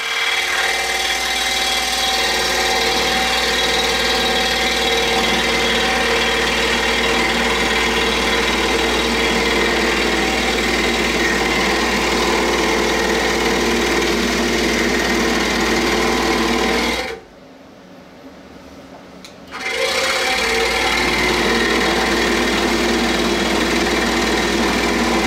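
A saw cuts a profile through wood 1¼ inch thick with a steady, loud, continuous mechanical whine. The blade is dull. The sound breaks off briefly near the end, then resumes at the same level.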